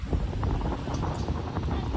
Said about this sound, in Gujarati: જોતા પવન આવે.